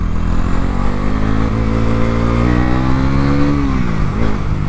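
A 2025 Bajaj Pulsar NS400Z with a 43 bhp engine and quickshifter revs up loud and close, its note climbing steadily, then dropping back near the end.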